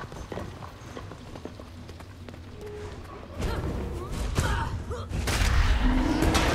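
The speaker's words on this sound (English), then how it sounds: "So listen to the footsteps of this raptor." Footsteps of a raptor mount crossing terrain in the Guild Wars 2: Path of Fire video game, a series of soft rhythmic thuds under steady game ambience that grow denser and louder toward the end.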